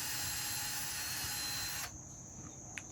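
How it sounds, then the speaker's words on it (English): A power drill whines loudly and steadily as it bores through house siding, then cuts off abruptly, leaving a faint high tone and a small click. "we're just going to drill through the siding"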